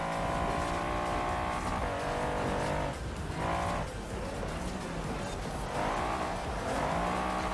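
A 1974 Hoonigan Ford Bronco races in a video game, its engine roaring loudly and continuously as it climbs through the revs and drops at each gear change, with hints of tire squeal.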